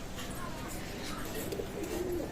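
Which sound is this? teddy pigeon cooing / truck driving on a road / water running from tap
teddy pigeon cooing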